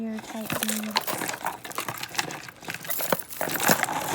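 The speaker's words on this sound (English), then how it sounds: "These are just some junky plastic Mardi Gras type beads" Cheap plastic Mardi Gras-style and New Year's party bead necklaces rattle and clatter as they are handled, a busy, bright jumble of clicks at close range, with a voice speaking over parts of it.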